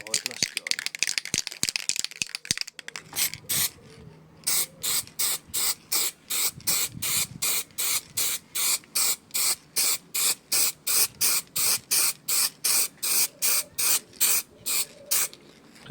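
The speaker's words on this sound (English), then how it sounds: "now we spray the outside" An aerosol spray can hisses onto a part for a supercharged Honda NSX build, first a rattling shake and then around two dozen short, evenly spaced spray bursts, loud and close.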